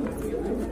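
Domestic and foreign pigeons kept in pairs with eggs give soft, low cooing that carries steadily under a voice.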